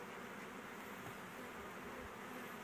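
Local honeybees buzz at the hive, a steady, continuous drone close by and faint in level, with no voices over it.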